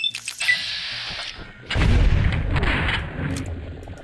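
Heavy booming gunshot from a sniper rifle in Fallout: New Vegas, a single loud blast with a rumbling tail after brief mechanical clicks.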